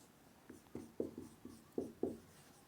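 Writing on a board or paper during a physics lecture, with a series of soft, irregular scratchy strokes and taps heard close up in a quiet room.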